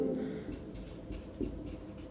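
Pen or chalk writing out a gear train formula in a lesson, a few scratchy strokes close by with faint talk around them.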